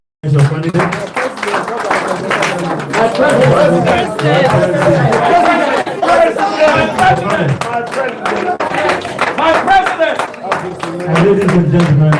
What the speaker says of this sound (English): So another round of applause for our candidate.